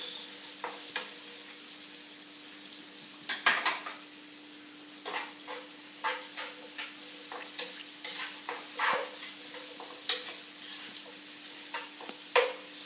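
Carrots, onions and peppers sautéing in oil for shrimp teriyaki give a steady, close, soft sizzle, broken by repeated scraping and tapping of a stirring utensil against the pan. No one speaks.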